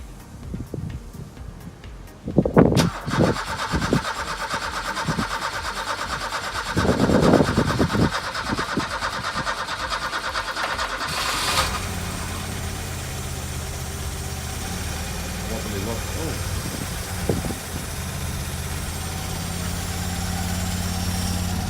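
An Opel Manta with timing issues and a suspect carburetor cranks and starts after several clunks, then settles into a steady, loud idle that runs on alone.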